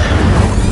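A loud burst of magical flame from the Incendio fire spell in the video game Hogwarts Legacy on PS4, a dense continuous roar with no voices, filling the whole short moment.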